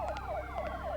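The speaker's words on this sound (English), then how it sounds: "here's a bunch of sirens" Electronic sirens wail in the PlayStation game Parasite Eve 2, with a rapid, repeating yelping sweep that sounds steady and moderately loud through the whole second.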